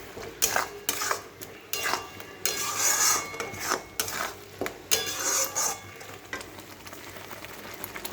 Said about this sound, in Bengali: মশলা থেকে তেল ছেড়ে আসে ততক্ষণ মশলাটা আমি ভালো করে ভেজে নিই।